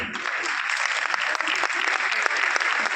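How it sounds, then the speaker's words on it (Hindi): An audience claps steadily at a business-plan event, with dense applause filling the whole stretch and a few sharper individual claps standing out. "मैंने देखा ना, जिनको मिली है वही ताली बजा रहे हैं"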